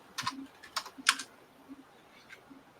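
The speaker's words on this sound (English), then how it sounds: "You sound like you have a nice keyboard there," A wireless Logitech computer keyboard is typed on in a few short bursts of clicking keystrokes with pauses between them, fairly close but quiet.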